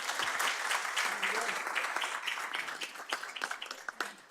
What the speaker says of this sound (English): A round of applause for Jürgen